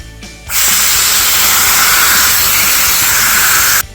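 A Lonn Air Saver air nozzle blasting compressed air at a pan in a shop, one loud continuous hiss lasting about three seconds that starts and stops abruptly.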